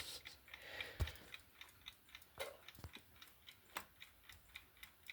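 A small Equity alarm clock ticks steadily in a quiet room, the soft regular ticks close and clear with no talking.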